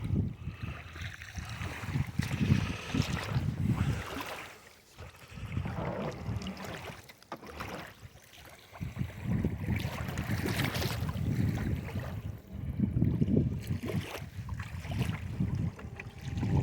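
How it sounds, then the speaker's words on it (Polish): A Boatman Actor Plus remote-controlled bait boat runs on fairly big waves, with a steady low motor hum and splashing water under wind noise. The sound stays constant and somewhat distant throughout. "Spróbujemy teraz zademonstrować działanie tej łódeczki"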